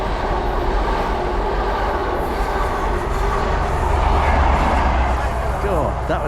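A fast train rushes loudly past a coastal footpath beside the railway on the route between Shaldon and Starcross, a continuous roaring rumble with wheel noise filling the whole stretch at close range.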